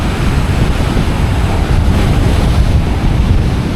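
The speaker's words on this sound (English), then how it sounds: "Take a look at that ocean right there. It is nasty." Rough, heavy ocean surf pounds a beach in a continuous loud roar, with gusty wind buffeting the microphone throughout and no voices.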